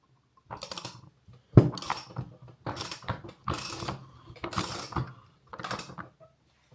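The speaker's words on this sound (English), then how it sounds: "thread this in hand tight, and then we'll do the same thing to the other side, and then we'll tighten them both down" Pipe reducer fittings being threaded and tightened onto a generator's gas regulator, a series of short close metallic ratcheting and scraping bursts separated by brief silences.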